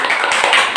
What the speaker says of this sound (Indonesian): Jadi boleh tepuk tangan.